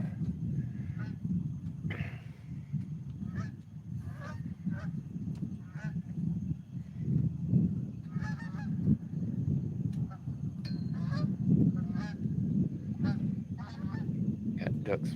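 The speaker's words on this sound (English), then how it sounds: "Got ducks flying by." Ducks flying by outdoors at sunset, repeated nasal honking calls in irregular bursts over a steady low rumble, fairly close and clear throughout.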